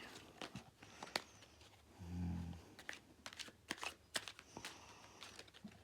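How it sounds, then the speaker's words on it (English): A deck of cards from the Roaring 20s tabletop game is shuffled, giving faint, quiet bursts of papery flicks and crisp snaps scattered unevenly across several seconds. "you shuffle up the entire deck"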